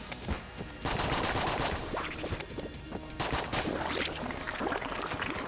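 Hegemony carbine rifle fire in the game Enter the Gungeon, bursts of rapid gunshots crackling in clusters across the clip, loud and dense with brief gaps between volleys.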